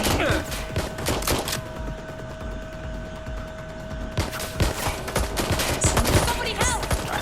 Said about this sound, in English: I'm getting shot at here.